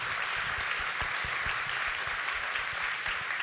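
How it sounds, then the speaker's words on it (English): Audience at an AI for Good event hall applauding a panel, a dense, steady wash of clapping from many hands throughout. "A round of applause for them."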